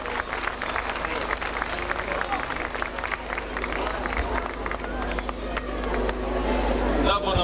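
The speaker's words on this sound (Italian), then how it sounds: "Un altro grosso applauso a questo poeta sconosciuto." A live audience at an Italian comedy-and-poetry show claps for a poet, sustained dense applause that builds in loudness toward the end, with a voice talking over it.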